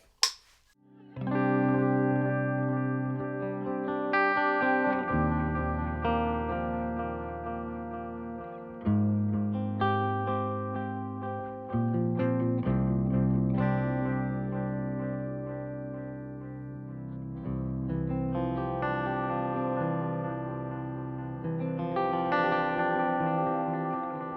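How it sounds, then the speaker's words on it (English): Guitar chords ring out loud through a Valeton Dapper's analog delay, a soft delay trailing each strum, repeats blending into a warm wash; no voices. "you're just going to hear the analog delay"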